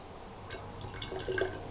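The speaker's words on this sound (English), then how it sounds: "Rinse more water through it. Let's do that over the water." Water rinsed through an airbrush paint cup drips and trickles into water below, with a few small, close droplet splashes, faint and brief.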